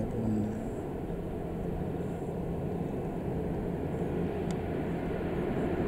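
USAF MC-130J Hercules turboprop transport rolling down the runway and lifting off at night at RAF Mildenhall, a steady, heavy broadband engine roar and rumble that holds constant throughout, distant and unbroken.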